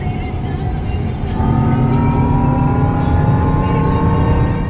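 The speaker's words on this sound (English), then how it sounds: "The noise you hear on the background is actually an audio the car plays" Synthetic engine sound played through the speakers of a Jaguar electric car while accelerating hard on the German Autobahn, a loud steady hum with rising tonal whines layered over road and wind roar.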